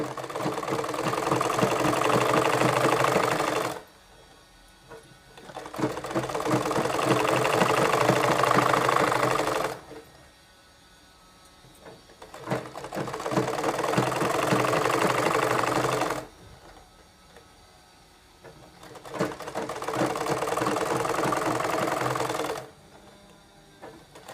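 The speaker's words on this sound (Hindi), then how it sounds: "इसे इस तरह एक पैर के दबाव के साथ इसे हम सिलाई देंगे।" A sewing machine stitches the back neck of a kurti, running in four loud, steady bursts of rapid needle clatter of about four seconds each, separated by short quiet pauses.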